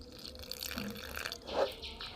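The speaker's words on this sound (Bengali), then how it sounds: "সামান্য জল দিয়ে ব্যাটারটাকে আমি একটু ঘন মতো করব" A small splash of water is poured into a spiced batter of turmeric, chilli, coriander and cumin powder, giving a soft, brief trickle with a slightly louder splash near the end, heard close and alone.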